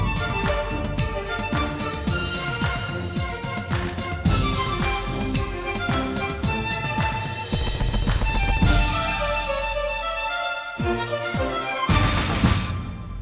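A rough music demo built from sampled coin noises, dense clinking, metallic percussive hits layered into a continuous track with steady loudness, broken briefly by a short gap near the end.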